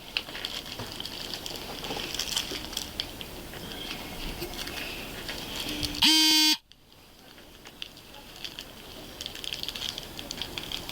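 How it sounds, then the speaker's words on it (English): A portable breathalyzer gives one loud, piercing electronic beep lasting about half a second partway through, set against a quiet room hum before and after. "This is a portable breathalyzer machine."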